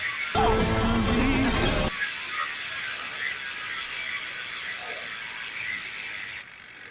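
A Tanke TH31 bicycle hub body freewheel ratchet clicks in a fast, steady buzz as the wheel coasts, loud at first, then continuing evenly before fading out near the end.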